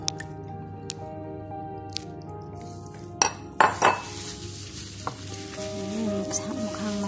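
Wet squishing, dripping and soft clicks up close as a mixed ingredient blend is spread over marinated chicken for roasting with garlic, baby potatoes and olives, over a low steady kitchen hum.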